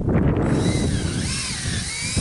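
A power drill bores a tap hole into a maple tree for sap collection, with a steady, close motor whine that runs continuously through the moment.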